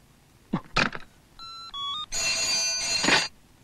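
An electronic telephone ring tone sounds in short chirping bursts, then a longer continuous ring, close and clear with a few brief clicks before it.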